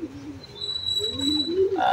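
Racing pigeons coo in low, rolling phrases, close and fairly loud, with a thin high tone and faint chirps in the background.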